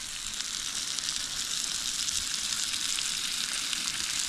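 Burgers frying on an outdoor camp cooker in the bush give a steady, dense sizzle that hisses evenly throughout at close range, with no talk.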